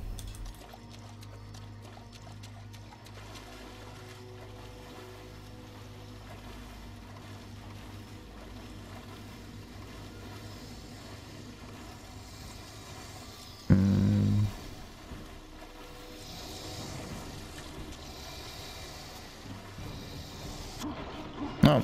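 Water in the Darksiders video game gives a low, steady lapping and flowing ambience, quiet and continuous, with a brief louder splash midway.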